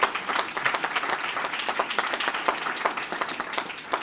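Applause fills the hall at an early learning academy graduation, many hands clapping in a dense, steady wash that holds throughout.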